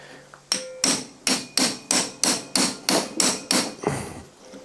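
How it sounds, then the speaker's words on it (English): A hammer strikes an impact screwdriver about ten times in a quick, even rhythm to loosen a part on a 1987 Honda TRX250 ATV, each blow loud and ringing close by, with no talking. "push this right into where we need to, hit with the hammer"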